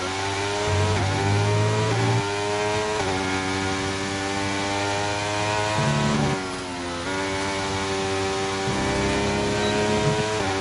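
Formula 1 car engine in the F1 23 racing game on a qualifying scrub lap in Q3 on old tyres, a loud, steady high-pitched whine rising through the gears, with several sharp shifts and drops in pitch under braking.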